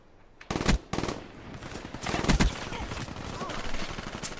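Rapid automatic gunfire from the Call of Duty: Black Ops III multiplayer game rattles in loud close bursts, a couple of sharp volleys early and mid-clip followed by sustained rapid firing.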